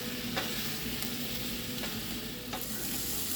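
Onions and peppers fry in a pan with a steady, close sizzle, while a few sharp clicks of a utensil stirring come through at intervals.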